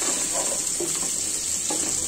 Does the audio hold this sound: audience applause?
no